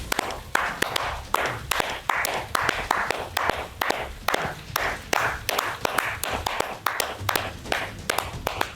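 A group of people clap hands together in a steady, fast rhythm beside water where drops fall continuously at Barsopani in Barkagaon, Hazaribagh, the sharp claps close and repeated over a soft background wash.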